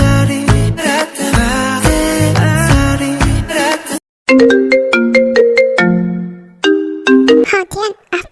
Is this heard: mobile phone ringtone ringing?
yes